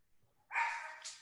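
A single dog bark rings out close and clear against a quiet room, a short sharp yelp that trails off after about half a second.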